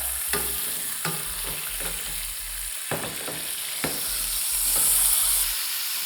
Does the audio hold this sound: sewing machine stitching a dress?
no